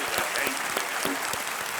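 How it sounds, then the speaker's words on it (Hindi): Studio audience applause fills a TV quiz show set (Kaun Banega Crorepati) with dense, even clapping from many hands, close and sustained throughout the short stretch. "तालियों से इनका अभिनंदन हम करते हैं"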